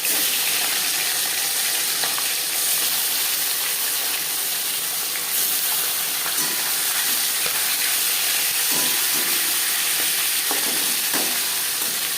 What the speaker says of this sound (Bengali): তিনবারে মাছ ভেজে নেব